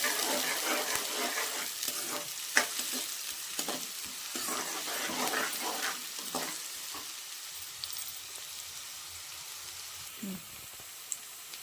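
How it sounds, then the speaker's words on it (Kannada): Onions fry in a pan toward golden for a potato fry and gravy, with a steady sizzle broken by repeated scraping stirs that thin out in the second half, close by with no talking. "ಈರುಳ್ಳಿ ಸ್ವಲ್ಪ ಫ್ರೈ ಮಾಡೋಣ. ಒಂದು ಸ್ವಲ್ಪ ಹೊಂಬಣ್ಣ ಬರೋವರೆಗೂ ಫ್ರೈ ಮಾಡೋಣ."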